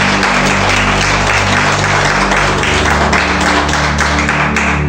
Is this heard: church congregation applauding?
yes